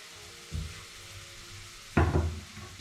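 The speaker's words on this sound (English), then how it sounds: "So we just want to brown the onions just slightly." Finely diced onions and garlic fry in a pan for a mushroom sauce, a low sizzle punctuated by two stirring bursts, the second louder and sharper, with no talking.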